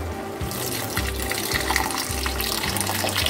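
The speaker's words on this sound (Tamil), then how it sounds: "இப்போ தான் நம்ம கரைச்சி வச்சுருக்கிற புளியை சேர்த்துக்கணும்." Tamarind water is poured into a simmering appa kovai greens curry in a pan, a steady close splashing and gurgling pour with small rhythmic surges and no voices.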